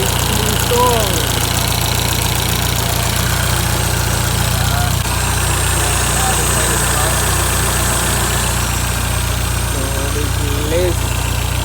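A BMW E30 with its M10 four-cylinder engine idles steadily after new engine mounts are fitted, giving a loud, close, continuous hum with a faint higher whine.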